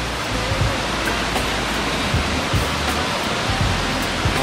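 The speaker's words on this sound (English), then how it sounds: "Hanging onto those rocks and then the water running down is the ultimate shower." Water cascading down over rocks at a waterfall in Manay, Davao Oriental, a loud, steady, close rushing roar with faint splashes and no speech.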